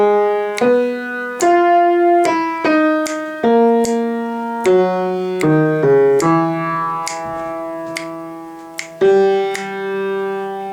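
Solo piano plays the synth solo loop from a song, a steady run of clear, ringing melodic notes and chords struck one after another at an even pace.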